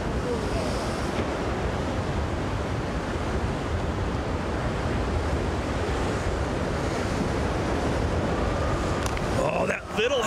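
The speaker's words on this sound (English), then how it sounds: "The waves crashing into the cave." Sea waves surge and crash into a cave beneath the cliffs at Polignano a Mare during a cliff diving event, a continuous roaring wash with wind noise on the microphone and brief clicks near the end.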